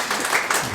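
Church congregation clapping during a Sunday worship service, a short burst of dense applause under a faint voice.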